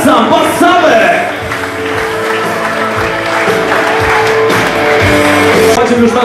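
Crowd applause and cheering during a basketball team presentation in an arena, loud and continuous, blended with an announcer's amplified voice and music throughout.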